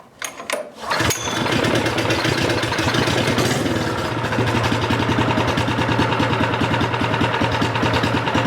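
A Studebaker engine cranks briefly, catches and settles into a steady, loud, close idle with an even rhythmic chug.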